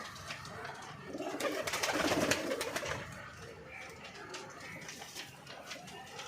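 Pigeons kept by a rooftop fancier coo in low, throaty bursts, several birds close by and overlapping, swelling in the middle and then easing back.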